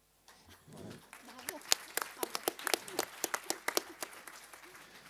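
Conference audience applauds, a crowd of hands clapping that builds from a quiet start into steady, fairly loud applause with sharp individual claps standing out.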